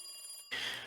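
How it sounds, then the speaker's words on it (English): Telephone bell ringing from the video game Higurashi: Matsuribayashi, a bright electronic ring that cuts in abruptly after a quiet moment and carries on clearly, alone and moderately loud. "Then the phone rang."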